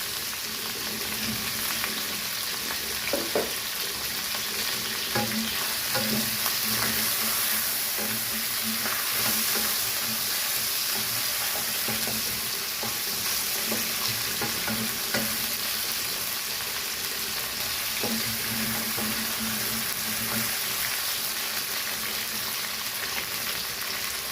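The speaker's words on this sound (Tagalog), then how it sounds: "Sabay natin iprito ang ating patatas." Potatoes frying in a pan for a chicken, potato and egg curry, giving a steady, loud sizzle with bubbling crackle and occasional stirring scrapes throughout, no voices.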